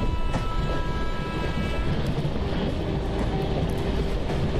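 A Shatabdi Express train rolling between Vapi and Valsad in Microsoft Train Simulator, its throttle being raised: a steady, loud mechanical rumble with a thin sustained whine on top, and no talking.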